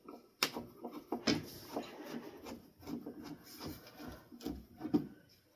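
A long Phillips screw is worked out of a salvaged wooden desk, with close, irregular scraping, rubbing and squeaking of metal against wood and a few sharp knocks.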